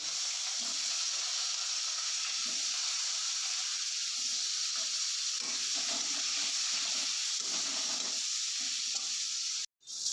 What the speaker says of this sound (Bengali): এবার আমি বেগুনটাকে দিয়ে দেবো।